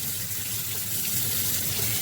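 Tap water runs steadily over leeks being washed in a kitchen sink, a close, continuous splashing hiss with no pauses and no speech.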